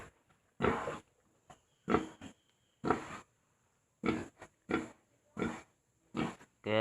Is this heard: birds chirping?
no